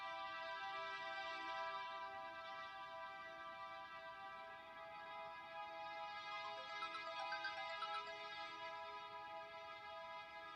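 A phone ringtone plays on its own as a steady, continuous electronic tone with a sustained harmonic melody, moderately quiet and uninterrupted, with no voices heard.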